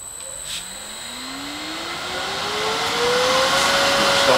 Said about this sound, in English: So we'll start the lathe.